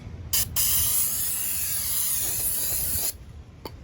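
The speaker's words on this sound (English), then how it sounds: "You just run a brake cleaner over it." Aerosol brake cleaner sprayed onto new drilled and slotted brake rotors, a loud, close hiss lasting about three seconds after a brief opening burst.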